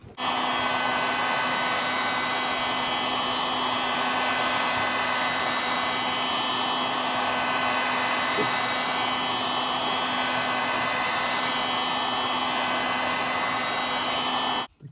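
A heat gun blows hot air onto an iPhone 12 Pro Max screen, a steady close whooshing whir with a faint tonal hum that holds constant throughout before cutting off.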